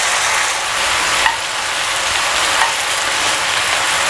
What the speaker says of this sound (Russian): Тефтельки перевернули.